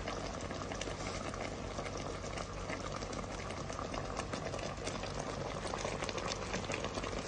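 A pot of sweet potato and coconut dessert boils on the stove, giving a continuous soft bubbling and simmering hiss with no talk over it.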